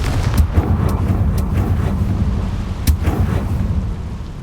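Confringo fire spell blasting in the Hogwarts Legacy video game, a run of sharp explosive cracks over a heavy low rumble, several bursts landing close and loud one after another.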